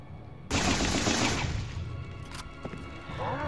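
Enemy gunfire in the video game Resident Evil 4 (Separate Ways): a sudden loud burst of rapid shots that fades into scattered impacts and thuds, followed by a sharp metallic hit and whooshing effects.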